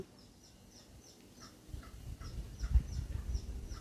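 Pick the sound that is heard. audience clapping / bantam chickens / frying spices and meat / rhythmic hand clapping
bantam chickens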